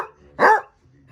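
A plush toy dog with teeth lets out a single short mechanical bark, close and loud, after a quiet moment.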